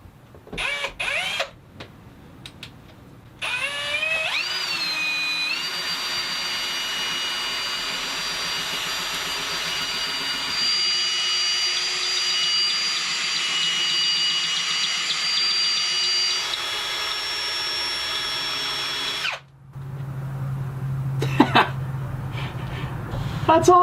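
A homemade rolling-pin drum sander runs steadily against an MDF mold, a loud continuous whine and hum that holds for most of the stretch, shifts in tone midway, then cuts out near the end.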